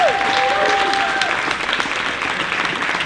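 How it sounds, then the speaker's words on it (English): Audience applause for ISP students at their year-end presentations, a steady dense clapping from a crowd filling the room throughout, with a brief whistle tone near the start. "Can we give one more round of applause to our ISP students?"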